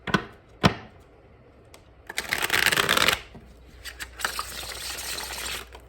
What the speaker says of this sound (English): I love shuffling these cards because they're just different.